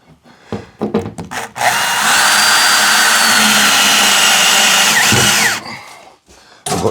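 Power drill driving a screw into a joist in a workshop: a few short clicks and bumps, then one sustained loud whirring burst of about four seconds, ending in a drop in pitch and more handling knocks.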